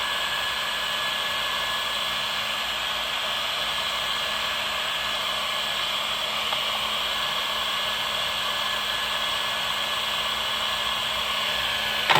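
A heat gun blows steadily on a Chevy Cruze valve cover to soften its glue, a continuous close whooshing fan-and-air hiss with a faint motor whine that holds unchanged throughout, with no voices.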